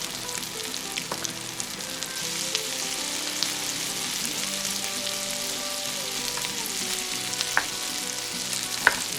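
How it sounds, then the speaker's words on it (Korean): Mung bean pancake batter (nokdujeon) sizzles and fries in an oiled pan, a steady bright crackle with occasional pops and a few faint spatula clinks, close and continuous without talk. "또 다른 쪽에도 한번 녹두전을 올리도록 할게요"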